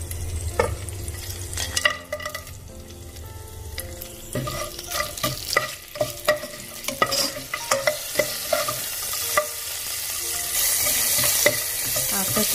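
Whole spices such as nutmeg, cloves, cardamom, star anise, bay leaf and cinnamon sizzle in hot oil for mutton biryani, a close crackling fry broken by repeated stirring scrapes, with no talking.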